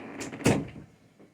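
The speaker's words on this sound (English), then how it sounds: "I went and shut the door because" A door shut indoors, a single fairly close thud with a short rattle, alone and quiet.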